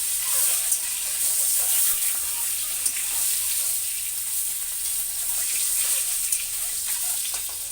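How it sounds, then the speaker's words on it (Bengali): Eggs seasoned with salt and turmeric fry in hot oil, giving a steady, close sizzle and crackle that runs unbroken throughout with no voices. "নুন হলুদ দিয়ে ডিমগুলো দিয়ে দিলাম। এবার ভেজে নিচ্ছি সুন্দর করে।"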